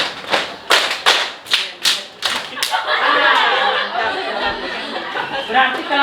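A class of students does a rhythmic tolerance clap, several sharp group claps in a patterned beat followed by a burst of scattered clapping and excited chatter and laughter from the children.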